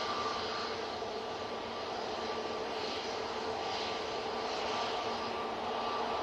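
An Emirates airliner departs Manchester Airport, its jet engines producing a steady, broad roar that holds loud and continuous throughout, with no talking.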